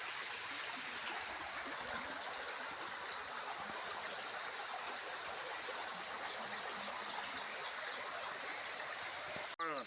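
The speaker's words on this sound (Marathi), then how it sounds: "तिथून पण पाणी चालू." Floodwater flows behind a house with a steady, rushing wash like a stream, moderately loud and continuous, ending in a brief handling bump.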